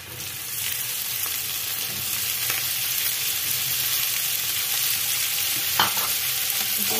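Chopped onions fry in hot oil in a pan for chilli chicken, a steady loud sizzle running throughout, broken by a few scraping stirs of the spoon close by.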